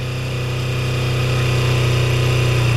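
A 2006 Kawasaki Ninja 250R (EX250F) motorcycle idles steadily while warming up on choke, a close, even buzzing engine note that holds constant with a faint rise in loudness and no talking.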